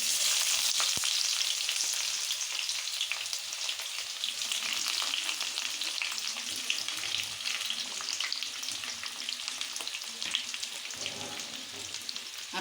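Chopped onions sizzle steadily in hot oil with bay leaf and whole garam masala for a Bengali chicken kosa. The frying hiss is loud, close and continuous, with small crackles and no voices.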